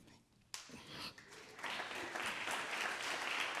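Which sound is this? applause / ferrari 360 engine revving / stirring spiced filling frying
applause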